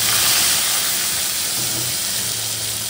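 Small diced potato pieces frying in a pan, a continuous bright hiss and sizzle held at steady loudness throughout.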